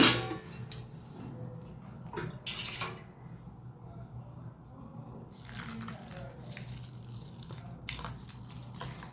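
Water pours and splashes into a bowl of oats in uneven bursts, with soft trickling and dripping between stronger streams, close by.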